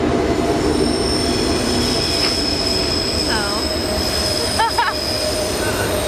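A train passing close by with a loud continuous rumble, wheel squeals rising and falling over the top, and a faint voice underneath.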